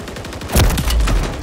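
Gunfire in a shooter video game erupts suddenly about halfway through as a loud, close burst of rapid shots, then continues as sustained rattling fire until the end, with no talking.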